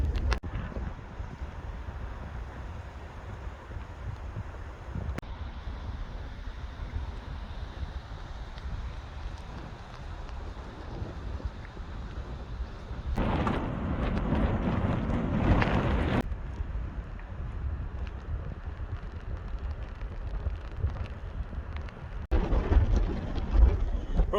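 Wind on a mountain pass buffets the microphone in a steady low rumble that swells into louder gusts, with faint breathing and shuffling under it.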